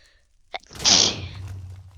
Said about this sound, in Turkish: Hapşırdığım zaman böyle.